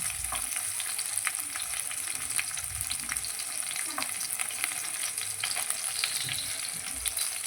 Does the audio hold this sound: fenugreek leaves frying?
yes